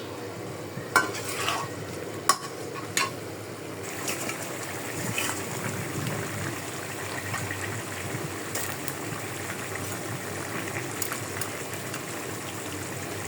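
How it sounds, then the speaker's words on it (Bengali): Snake gourd and potatoes are stirred into a spiced fish curry frying in a pan, with a few sharp utensil clinks early on, then soft repeated scraping over a continuous sizzle and no talk. "মশলা কষানি হয়ে গেছে, দিয়ে দিচ্ছি চিচিঙ্গা,"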